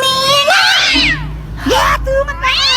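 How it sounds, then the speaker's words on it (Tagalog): A cat meows repeatedly and loudly up close, with rising and falling whiny cries in quick succession, one short low chirp between them. "Ay! May pusa pala kayo?"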